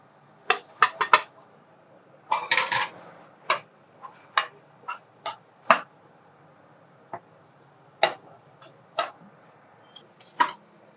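A metal spatula taps and clinks sharply against a large kadhai while besan flour roasts, in scattered, irregular strikes with quiet gaps between them.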